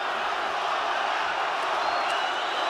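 A boxing arena crowd at a Kubrat Pulev versus Kevin Johnson heavyweight bout roars in a dense, steady wash of cheering and shouting, with a commentator's voice faintly mixed in.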